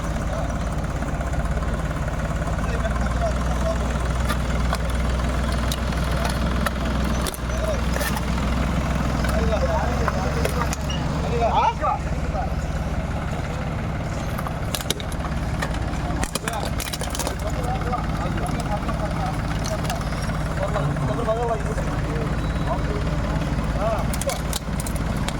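A tractor engine runs in a steady, continuous low rumble while it crushes seized tape recorders and speaker boxes under police supervision. Voices can be heard throughout.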